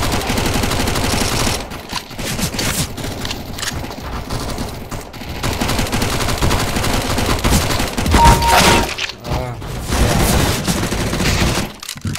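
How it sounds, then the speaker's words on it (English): Rapid bursts of automatic gunfire in the video game Counter-Strike: Global Offensive crackle almost continuously, loud and close, with a few brief pauses between volleys. "Just hear gunshots."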